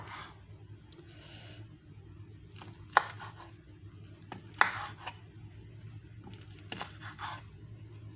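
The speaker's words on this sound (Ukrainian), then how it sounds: "я зараз поріжу їх на пластинки" A few sharp, scattered knife cuts tap against a cutting board as veal kidneys are sliced into thin pieces, with soft kitchen background noise between them.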